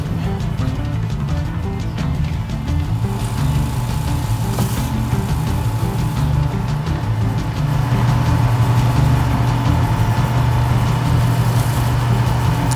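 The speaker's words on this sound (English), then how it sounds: "I'm going to start off doing it as the lathe is turned." A wood lathe turns steadily while polish is applied to a spinning wooden bowl, giving a loud, continuous motor hum with a low droning whine and faint rubbing texture throughout.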